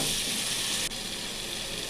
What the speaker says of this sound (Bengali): ভালোভাবে কষিয়ে নিচ্ছি মশলাটা।